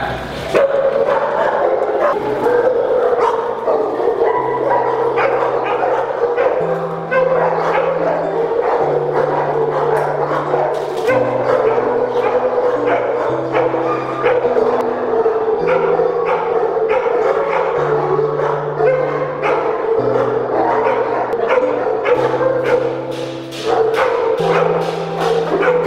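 A small dog barks in a French animal shelter, sharp yips and barks recurring through steady background music.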